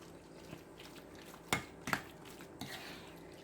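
A utensil folds ingredients together in a dish during lunch meal prep, with soft scraping and a few sharp clinks against the dish, close and quiet, with no talk.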